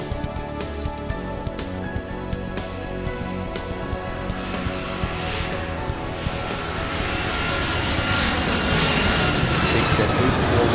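Airplane engine in the Airport Madness 3 video game spooling up for takeoff, a steady broadband roar that builds gradually in loudness and pitch over about ten seconds.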